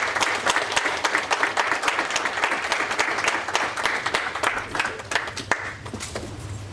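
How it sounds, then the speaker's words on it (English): Audience at a school district board meeting applauds staff with steady, moderately close clapping that holds throughout, individual sharp claps standing out, no speech over it. "You guys can give them another round of applause."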